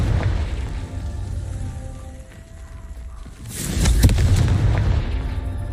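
A Confringo fire spell explodes in Hogwarts Legacy. A low rumble dips, then a sudden booming burst hits midway and rolls on loudly to the end.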